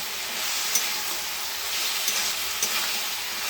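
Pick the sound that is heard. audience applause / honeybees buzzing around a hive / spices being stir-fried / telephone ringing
spices being stir-fried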